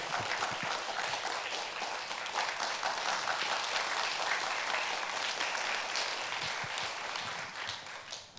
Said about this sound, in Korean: 다시 한번 박수로 우리 정읍 잊지 말라고.